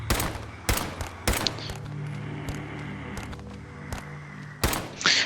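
Sharp single gunshots ring out while zombies are shot in Fallout 4 with the Apocalypse Zombie mod, a few loud irregular cracks over a low game ambience.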